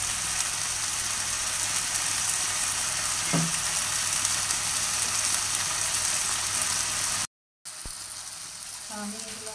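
Small fish frying in a hot pan for a hill-style sour-leaf chorchori, a loud dense continuous sizzle that drops out briefly before resuming.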